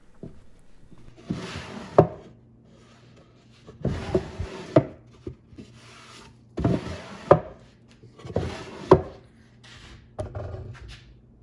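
Plywood chuck box tray sliding back and forth on glued and nailed wooden rails, four or five close scraping wooden strokes with knocks at the ends, evenly spaced, no talk.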